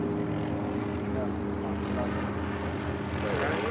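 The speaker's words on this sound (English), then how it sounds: "It's a police chopper." A police helicopter passes overhead with a steady droning rotor and engine hum, continuous and fairly loud, while people talk nearby.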